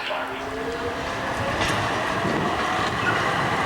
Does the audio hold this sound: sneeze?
no